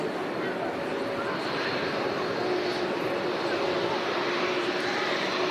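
A Dash 8 turboprop airliner at Manchester Airport, its engines giving a steady, fairly distant drone with a faint propeller tone throughout.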